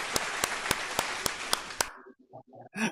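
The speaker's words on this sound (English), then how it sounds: "let me give you a big round of applause" Hand clapping as a round of applause: about eight sharp, evenly spaced claps close by, followed by a few short voiced sounds.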